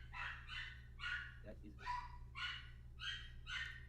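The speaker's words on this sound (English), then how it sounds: "Just ignore my dogs." Pet dogs bark in a steady series of about six quick, faint yaps from a distance, with a voice speaking briefly partway through.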